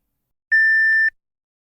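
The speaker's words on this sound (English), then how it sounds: "The tiny beep marked the beginning of a digital revolution in retail" A single clean electronic beep of a barcode scanner, about half a second long, steady in pitch and isolated against silence.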